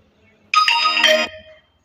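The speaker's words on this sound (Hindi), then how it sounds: "इस पर जैसे कि ये डिफ़ॉल्ट रिंगटोन है" WhatsApp's default notification ringtone plays on a phone as one clear, bright melodic phrase of about three-quarters of a second, ending in a short fade. It is loud and close, with no talking.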